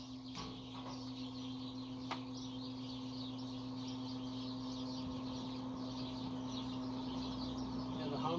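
Dense, continuous bird chatter fills the background, faint and outdoors, over a steady low electrical hum from a Bronson exhauster fan motor by International Oil Burner Co., with a couple of brief knocks.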